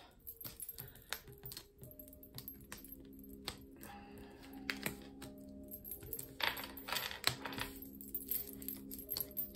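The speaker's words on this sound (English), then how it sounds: "Let me just organize these cards" Tarot cards are handled and sorted on a table, giving close, quiet bursts of crisp taps, slaps and light rustles at an uneven pace, with no talking.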